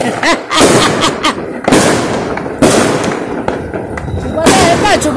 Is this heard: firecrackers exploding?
yes